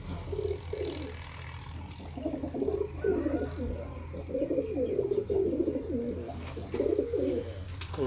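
Kamagar pigeons coo in repeated soft, throaty bursts at close range over a steady low background hum, with the calls rising and falling throughout.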